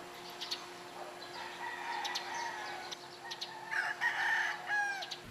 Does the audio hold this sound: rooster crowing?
yes